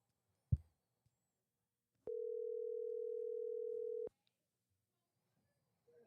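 A telephone call ringing out on the line, a single steady electronic ring tone lasting about two seconds after a brief click, fairly loud and clean with near silence around it.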